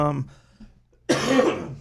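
A man gives a short, harsh cough up close, right after a brief bit of speech, ending in a rough burst of throat noise.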